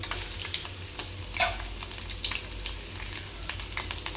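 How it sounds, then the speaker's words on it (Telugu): Cumin, mustard seeds and lightly crushed garlic cloves frying in hot oil for a red chilli tomato chutney, a close steady sizzle with small pops and crackles throughout. "జీలకర్ర ఆవాలు చిన్నగా దంచుకున్న వెల్లుల్లి రెబ్బలు"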